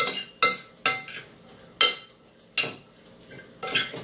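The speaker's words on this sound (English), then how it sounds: "Alright, get that mixed up in there pretty good." Zucchini kofta ingredients with seasonings being mixed in a bowl, producing a series of close, sharp utensil knocks and scrapes against the bowl, spaced about every half second to second with quieter stirring between.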